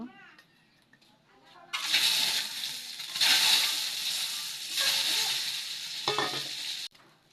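Eggs frying in a pan: a faint voice and quiet clatter open, then a loud, close sizzle starts abruptly and holds for about five seconds. The sizzle swells with a few stirring strokes and then cuts off suddenly.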